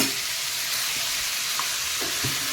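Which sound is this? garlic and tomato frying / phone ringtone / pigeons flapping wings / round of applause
garlic and tomato frying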